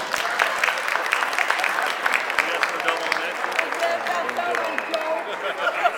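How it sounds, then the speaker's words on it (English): Wedding reception guests applauding the father of the bride, a sustained wash of many hands clapping from a crowded room, with some voices mixed in. "Let's have a round of applause for the father of the bride tonight."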